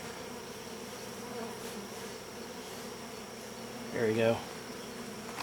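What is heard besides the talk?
bees buzzing on comb in hybrid beehive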